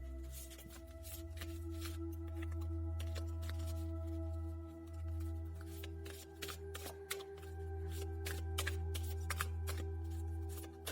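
Tarot cards are shuffled by hand in a quiet room, with repeated crisp riffles and soft flutters in uneven bursts over a low steady hum, no voices.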